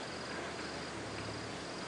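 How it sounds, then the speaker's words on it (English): Flies buzzing around an animal carcass near a creek bed on a morning game drive at Djuma Game Reserve, a faint, steady insect drone over outdoor bush ambience with no voices. "See the flies buzzing around already."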